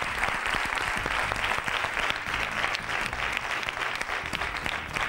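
Audience applause at the end of an interview, a steady even wash of many hands clapping, moderately distant and unbroken throughout.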